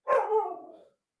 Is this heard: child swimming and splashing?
no